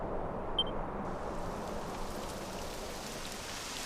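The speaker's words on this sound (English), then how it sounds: "It would have to go and start raining, wouldn't it?" Steady rain pouring down in Dragon Quest XI, a continuous dense hiss of falling drops filling the scene at even loudness with no voices.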